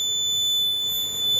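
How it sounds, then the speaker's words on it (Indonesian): A garage-door sensor buzzer for an automatic garage project, sounding one steady high electronic tone that holds without a break through the whole moment, fairly loud and alone over a low background hum. "sensor akan mendeteksi dan buzzer akan menyala"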